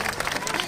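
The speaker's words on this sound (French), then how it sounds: "vous pouvez lui réserver un tonnerre d'applaudissements" An audience at an artisans' fair in a mill claps briefly, a short burst of fairly quiet, scattered applause.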